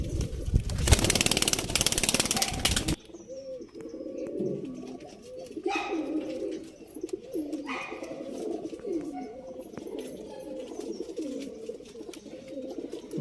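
Pigeons cooing in a loft in RT Nagar, Bangalore, a continuous chorus of soft, throaty rolling coos from several birds nearby, preceded by a brief burst of loud rushing noise at the start, with faint wing flutters.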